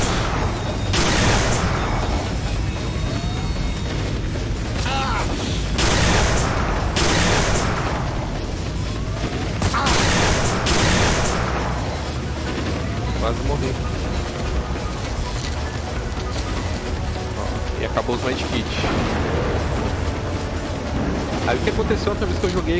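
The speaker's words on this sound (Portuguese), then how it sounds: "Toma tiro também de outras pessoas." Gunfire in STALKER: Clear Sky with the Arsenal Overhaul 1.4 mod crackles in repeated bursts with booming blasts, loud and dense, while a voice talks over the action.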